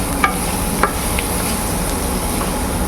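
Vegetables sauté in a little oil for cheese pasta, a dense, even sizzle filling the scene with a few faint scrapes of stirring, close and continuous with no talk.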